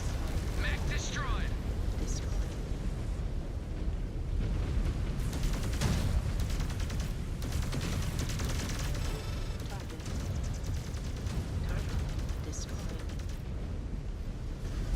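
Artillery strike explosions rumble through a Mechwarrior 5: Clans battle, a dense, continuous wash of booms and low-end blasts running the whole stretch, with talk over the top.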